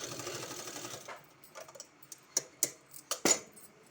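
Sewing machine running steadily for about a second while stitching strips of two-colour fabric together, then stopping, followed by scattered clicks and small handling knocks of cloth and parts.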